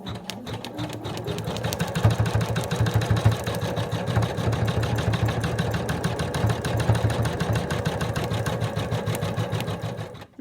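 An embroidery machine stitching at close range, a fast, even mechanical rattle with a rapid needle pulse and low motor hum, running steadily before stopping abruptly at the end.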